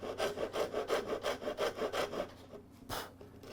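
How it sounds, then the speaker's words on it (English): A coarse rasp worked back and forth across the wood of a song stick, about a dozen rhythmic rasping strokes close up, then a pause and one final stroke. "I will take the coarse rasp and just bring that down"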